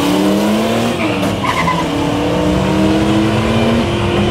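A drag race between a 1965 Mustang and a naturally aspirated Chevrolet Opala, heard as loud, sustained engine roar with tire squeal and revving at close range.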